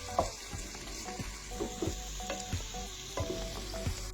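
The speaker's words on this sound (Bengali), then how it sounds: "মিডিয়াম ফ্লেমে গোল্ডেন করে ভাজবো পেঁয়াজটা" Chopped onions fry in oil in a wok over a medium flame with bay leaves and cumin, giving a steady close sizzle broken by repeated scraping stirs of a spatula.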